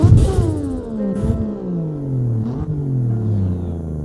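A drift car at Tsukuba Circuit revs with a deep, throaty engine note that sweeps down in pitch, wavers, then holds a steady rumble nearby, with a faint clatter mixed in.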